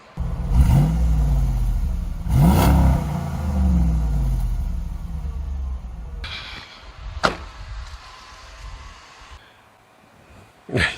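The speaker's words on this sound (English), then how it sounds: "The Dodge Hemi also provides us with an excellent exhaust note." A deep Dodge Hemi V8 in a 2004 RAM 1500 Rumble Bee truck revs twice in strong bursts, its exhaust rumbling loudly nearby, then settles to a low idle before a door thuds shut.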